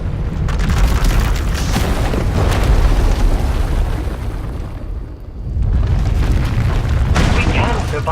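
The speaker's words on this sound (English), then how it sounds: "When it erupts, the entire asylum will be destroyed." Erupting power explodes in the Knights of the Eternal Throne game as an asylum is destroyed: a loud, sustained, rumbling roar that dips briefly before surging again.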